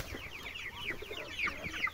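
Chickens, including grown chicks, cluck in a quick, busy chorus close by, with chirpy calls overlapping over a low murmur of background noise.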